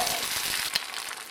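An egg fries in a spray-oiled pan, giving a soft steady sizzle and crackle with a small pop partway through, fairly quiet and without talk.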